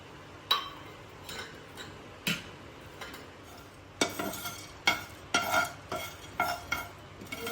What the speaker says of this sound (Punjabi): ਜੋ ਵੀ ਆਪਾਂ ਸੁੱਕੇ ਮਸਾਲੇ ਰੱਖੇ ਸੀ ਇਹਨਾਂ ਨੂੰ ਰੋਸਟ ਕਰਨ ਵਾਸਤੇ ਕੜਾਹੀ 'ਚ ਪਾ ਦਾਂਗੇ